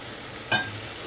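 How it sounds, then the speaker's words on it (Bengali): Spices and water being stirred in a frying pan for a Bengali fish curry: one short splashy scrape and sizzle, close and brief, then a quiet low simmer. "জলটা ভালো করে মশলার সাথে মিশিয়ে নিচ্ছি"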